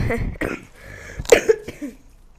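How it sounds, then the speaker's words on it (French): A voice speaks briefly, then a couple of sharp, close coughs break through before the talking fades out. "Non, mais je tousse un petit peu"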